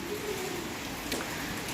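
Steady rain pours down in a continuous, moderately loud wash of drops, with no break in its even hiss.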